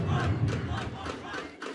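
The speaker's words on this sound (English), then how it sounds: "the Covina crowd chanting one more run" A large crowd at a youth baseball game chants "one more run" and cheers together in a loud, rhythmic roar, voices rising in repeated bursts.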